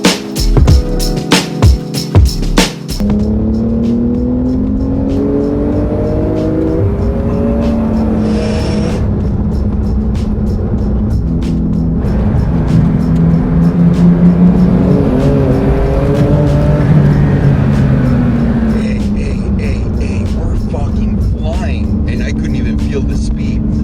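A Porsche GT2 RS accelerating hard, its engine note climbing through rising gear sweeps with shifts between them, loud and close from inside the car, with people talking over it.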